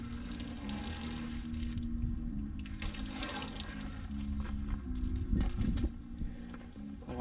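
Water sprays steadily onto a car's clear coat during wet-sanding repair, a broad hissing wash that runs throughout at close range with slight surges and a low hum underneath.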